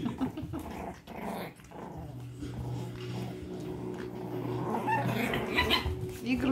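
Chihuahua puppies play-fight at close range, giving steady, rumbling little growls with a few yips and squeaks, while someone talks softly in the background.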